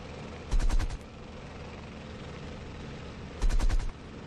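Aircraft machine guns in the IL-2 1946 flight simulator game, two short, loud rattling bursts about three seconds apart over a steady engine drone, with no talking.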